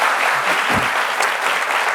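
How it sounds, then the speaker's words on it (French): A television studio audience applauds loudly and continuously, a dense wash of clapping with no talk over it. "Merci de l'applaudir encore très fort."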